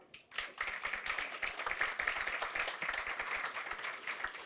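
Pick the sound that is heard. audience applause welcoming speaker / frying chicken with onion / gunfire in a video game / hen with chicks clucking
audience applause welcoming speaker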